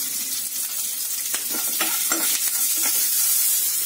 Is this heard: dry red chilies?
yes